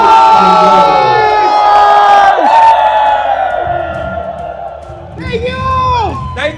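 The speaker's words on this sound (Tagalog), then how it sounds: "Ang ganda ng mga palakpak nyo pang noontime show." A live noontime show crowd in Pampanga cheers, whoops and claps loudly, the roar dipping briefly before a fresh burst of shouting at the end.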